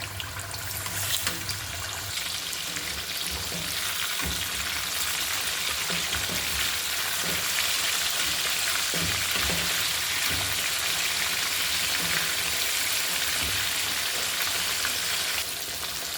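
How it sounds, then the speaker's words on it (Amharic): Fish fries in clean, hot oil, giving a steady, bright crackling sizzle that holds at an even level, with a few faint knocks and no talking. "እንደዚህ በንጹህ ዘይት ማለት ነው እንጠብሳለን።"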